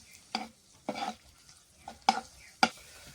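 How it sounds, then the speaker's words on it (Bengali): Ginger frying in a pan to cook off its raw smell, heard as a soft low sizzle broken by four sharp stirring scrapes, fairly close and quiet, with no voices. "আদাটাকে একটু ভেজে নিচ্ছি যেন কাঁচা গন্ধটা চলে যায়।"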